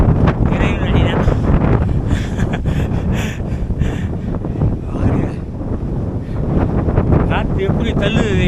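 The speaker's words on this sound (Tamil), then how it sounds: "காற்று எப்படி தள்ளுது தெரியுமா? அப்படியே தள்ளுது." Strong gusts buffet the microphone on an exposed mountain climb, a continuous loud rumbling roar with surges, while people talk throughout.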